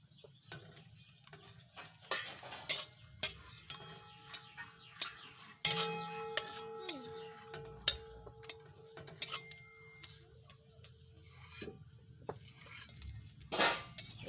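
Dried red chillies pressed and fried in a pan, heard as scattered sharp clinks and taps of a metal spatula against the pan over a faint low sizzle, close and intermittent.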